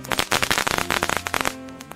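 Firecrackers go off for a Chinese New Year celebration in a rapid string of sharp, crackling bangs, loud and dense, with tonal sound beneath them that tails off near the end.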